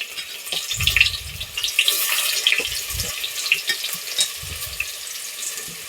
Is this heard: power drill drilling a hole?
no